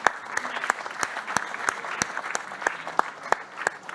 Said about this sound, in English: We can applaud them.